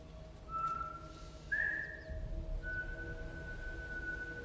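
A man whistles a few long, steady notes: a short opening tone, a brighter held note, then a longer sustained pitch, faint and plaintive over a low hum of background rumble.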